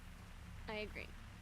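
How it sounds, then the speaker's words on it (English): Steady soft rain patters in Relto, the player's hut in Myst: Path of the Shell, a faint continuous wash under a brief spoken murmur. "It's really neat when it's raining in Relto"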